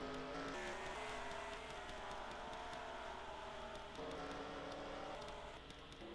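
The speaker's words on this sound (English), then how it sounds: "a large group of cars coming off the pit road right now" Engines of race cars roar continuously in a stock-car racing video game at a Kentucky oval, a dense steady drone with shifting pitches as a large pack pulls off pit road, loud and without any talk.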